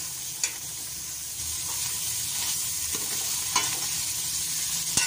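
Black pepper and salt being stirred into a frying vegetable mixture for spicy chicken vegetable macaroni, a steady close sizzle with a few soft scrapes of the spoon against the pan.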